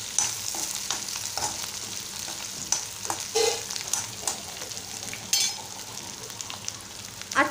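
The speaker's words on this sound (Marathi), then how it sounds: "आता व्यवस्थित एकजीव करून घ्यायचं आपण" Spoon stirring turmeric powder into onions frying in oil for batata poha, a steady sizzle with repeated scraping strokes close by.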